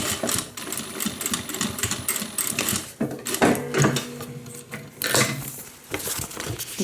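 A sewing machine back stitching the seams of a homemade airliner-style cabin bag, running in several quick rattling bursts with short pauses between them, close and clear.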